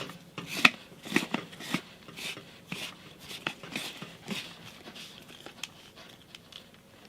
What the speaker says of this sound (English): now a very important thing is to first screw the closure together